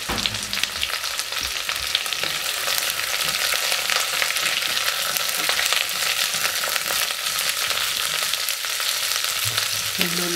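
Onion and celery frying in a hot pot, a steady bright sizzle filling the whole stretch with faint stirring underneath, close and continuous with no talking.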